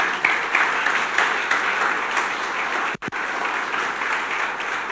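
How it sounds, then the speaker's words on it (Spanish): Steady applause from a church congregation fills the space, a broad, even roll of clapping that carries on for several seconds, broken once by a brief dropout. "Dale un aplauso al Señor."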